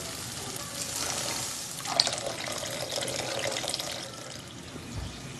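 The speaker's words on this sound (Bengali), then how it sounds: "এখন আমি এর মধ্যে দিয়ে দেব মাঝারি মাপের কাপের 2 কাপ জল।" Two cups of water poured into a pan of sautéed spices for a Bengali pabda fish curry, a continuous close splashing and hissing that runs steadily then tapers off.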